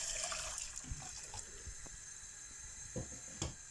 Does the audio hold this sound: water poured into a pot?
yes